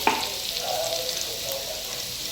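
Crushed garlic drops into hot oil for a masala fry of rawas fish, giving a steady close sizzle with a small clatter at the very start and no voices.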